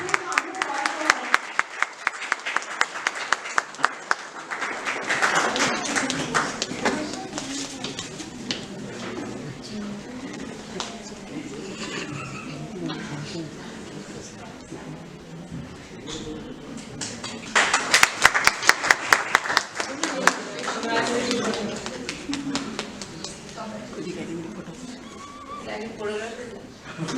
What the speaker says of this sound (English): Please come and give a round of applause for her.